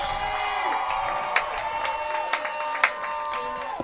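Crowd cheering in the stands at a high school football game, Phalen Academy at Greenwood Christian Academy, a loud, sustained roar with whoops and sharp shouts rising through it.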